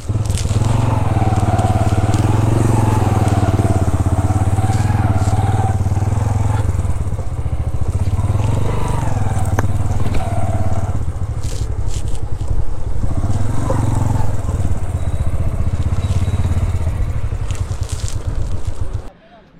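Motorbike engine running steadily at a hotel parking spot in a hilly trekking area, a loud low idle rumble throughout with some crunching and scraping, cutting off near the end.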